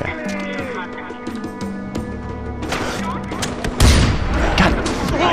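Gunfire in the video game Far Cry 4, scattered shots and bursts building into a louder flurry near the end, with a player's voice talking over the action.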